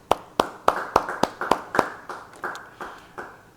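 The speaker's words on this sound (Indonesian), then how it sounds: "Yang percaya, beri tepuk tangan bagi dia." A church congregation at a Bible study claps in unison, about a dozen sharp, evenly spaced claps that slow and soften toward the end.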